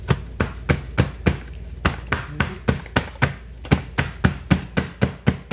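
A cake pan filled with batter for mini cakes is rapped against a counter about twenty times, close and sharp, in a fairly even rhythm of quick thumping knocks.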